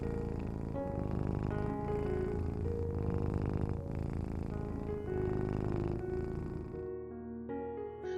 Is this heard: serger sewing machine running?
no